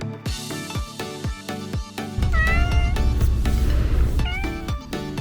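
Island cats on Yushima cat island in Kumamoto meow close and loud, several overlapping calls in quick succession, some drawn out and wavering, over a low outdoor rumble.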